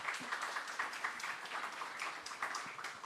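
Faint, distant applause from an audience at a design event, a soft patter of many hands clapping steadily with small swells.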